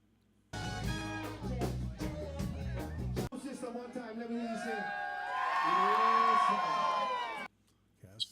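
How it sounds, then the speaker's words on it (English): Live crowd from a recording at the Slack Key Lounge, with whoops, shouts and cheering swelling into a sustained roar before cutting off abruptly, first heard over strummed music with a voice talking briefly. "Crowd tracks."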